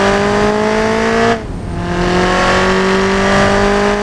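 Hot hatchback car in the Automation car tycoon game accelerating hard, a loud rising engine whine that drops sharply at a gear change, then climbs steadily again.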